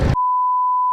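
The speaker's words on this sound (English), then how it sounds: "You have to beep this out." A steady censor bleep tone cuts off a loud spoken word and holds for nearly a second.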